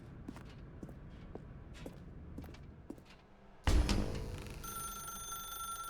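A telephone in The Stanley Parable rings out suddenly after a stretch of quiet footsteps, starting loud and close with a bright, sustained electronic trill that carries on to the end.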